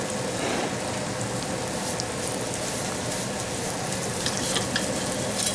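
Pancetta, garlic and onions frying in a wok, a dense steady sizzle and crackle throughout, fairly loud and close, with no talking.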